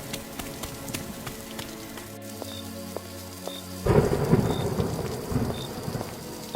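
Cartoon rain patters steadily, and a single thunder crash breaks in midway, followed by a heavier downpour. No one speaks.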